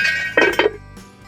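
A metal lid clanks down onto a pot of borscht with cabbage in two quick clinks, ringing briefly, then a softer tap follows.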